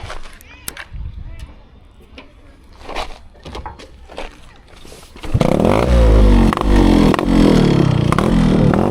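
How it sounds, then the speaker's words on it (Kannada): A rebuilt Yamaha RX two-stroke motorcycle engine idles with clatter and handling noises, then bursts into loud, sustained revving that fills the second half at close range. "ಸೊ ಒಂದು ಸರಿ ರವ್ ಮಾಡ್ತೀನಿ, ಕೇಳಿಸ್ಕೊಳ್ಳಿ"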